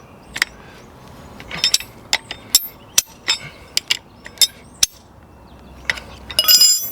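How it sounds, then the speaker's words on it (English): Metal clinks and ratcheting clicks from a 12-inch crescent wrench tightening an LP gas regulator, a series of sharp separate taps and turns, close and fairly loud, with a denser metallic burst at the end. "Just use that 12-inch crescent as to hold that regulator."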